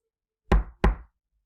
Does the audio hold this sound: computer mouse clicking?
no